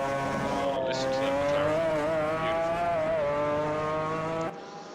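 A McLaren GT1 race car screams along in a sim-racing event at Brands Hatch GP, its engine note loud and close, pitch climbing and dipping through gear changes before cutting out abruptly near the end.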